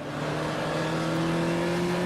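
Race car engine of a Puma GTE in the Automobilista sim, a steady loud droning tone holding one pitch and rising slightly, close and continuous with no talk.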